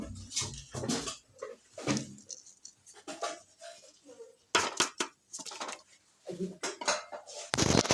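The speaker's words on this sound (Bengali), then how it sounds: "এখানে সবজি কাটা হচ্ছে, মা আর ভাই মিলে সবজি কাটছে।" A mother and brother cut vegetables for Bengali khichuri, with repeated clacks of a knife or blade against a board and metal pots clinking in bursts, fairly close and loud, with faint voices in between.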